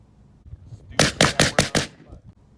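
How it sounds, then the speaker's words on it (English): Suppressed AR-15 rifle firing a rapid string of about five loud, sharp cracks, each with a short echoing tail, following one another in quick succession after a quieter lead-in. "if somebody is shooting a suppressed rifle in a mall or in an outside environment, you can hear the rifle."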